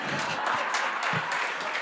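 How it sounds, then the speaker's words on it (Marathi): An audience applauds steadily during an interview event with actor-ventriloquist Satyajit Padhye, with a dense, even wash of many hands clapping for about two seconds. "मनापासून हसले, मनापासून टाळ्या वाजवल्या"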